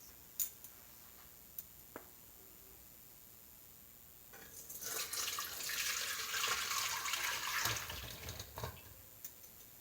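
Jujube-ginger tea is poured through a strainer in a quiet kitchen, a soft liquid splash and trickle building for several seconds and tapering off, with a few light clicks before it.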